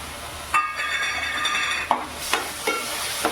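Tomato paste goes into onion paste frying in a pan for masala bhendi: a steady close sizzle, with a few clinks of a spoon against the pot as it is stirred, and no talking.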